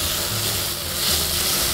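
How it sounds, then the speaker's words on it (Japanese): Sliced vegetables stir-fried in a pan over medium heat, a steady dense sizzle throughout, close and fairly loud with no voices. "中火ぐらいで炒めていきます。"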